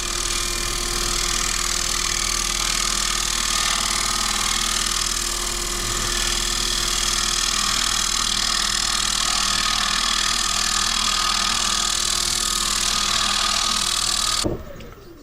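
A woodturning tool shears steadily across an alder bowl spinning on a lathe, a continuous close hissing cut with the motor's hum beneath, ending abruptly as the lathe stops.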